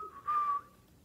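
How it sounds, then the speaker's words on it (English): A zookeeper whistles a single short, clear note, fairly close and alone in a quiet background. "I hear a zookeeper whistling in my ear."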